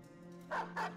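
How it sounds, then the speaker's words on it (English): A war dog in the video game Battle Brothers gives two quick barks in succession, faint over a steady low game hum. "Dog rips one to shreds."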